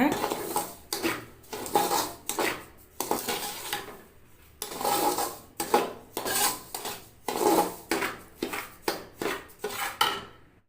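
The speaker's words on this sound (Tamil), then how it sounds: "கொஞ்சமாக சிம்மில் வச்சு இப்படி ஹீட் பண்ணிக்கோங்க" Unroasted semolina is heated and stirred in a pan on a low flame for rava laddu, giving rhythmic scraping and clinking of a spoon against metal in quick, repeated strokes, close and clear.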